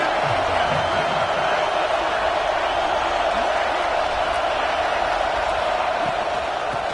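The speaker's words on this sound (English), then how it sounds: "this crowd is at fever pitch." A football stadium crowd roars continuously throughout a third-down red-zone play, a dense, steady wall of distant cheering with faint commentary underneath.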